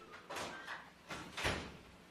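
A courtroom door swings shut during a heated hearing, giving a short muffled thud followed by a second, louder bump about a second later, close by in a quiet room.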